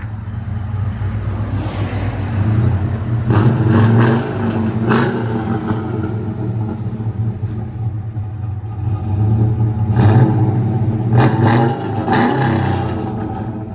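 A cammed Chevy 5.3L V8 fitted with headers and a Flowmaster 50 exhaust idles with a choppy lope between several loud, throaty revs, the exhaust barking up and falling back close by.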